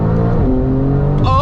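A 992-generation Porsche 911 Turbo S engine drones steadily up close, then its pitch jumps sharply as it free-revs in the final moment.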